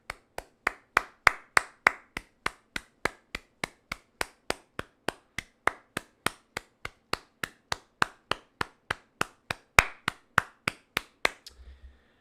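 Sharp, evenly spaced claps ring out one at a time, about three per second in a steady rhythm, close and crisp, ending with a brief softer flurry.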